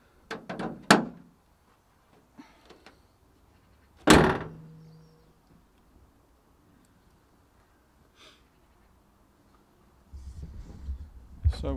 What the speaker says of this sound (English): Shut the bonnet.